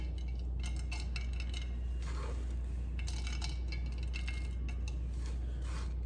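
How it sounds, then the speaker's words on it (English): Chopped pecans scattered into the bottom of a cake pan for a Bacardi rum cake, a light patter of small clicks and ticks in loose bursts over a steady low hum. "we're going to add our chopped pecans to the bottom of the pan"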